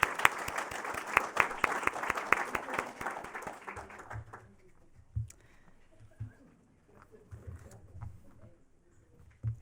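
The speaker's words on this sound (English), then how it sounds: "Can we get another quick round of applause for our great panel?" A conference audience at an Arctic critical minerals event gives a short round of applause that fades out after about four seconds, followed by quiet room noise and faint murmurs.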